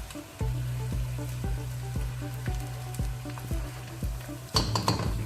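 Garlic sizzles and fries in a pan with zucchini, a continuous crackling hiss punctuated by regular rhythmic taps, then a louder burst of sizzle at the end, close up.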